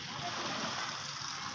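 Water gushes steadily from a running motor pump into a storage tank, a continuous broadband splashing rush that stays loud and close, with faint voices in the background.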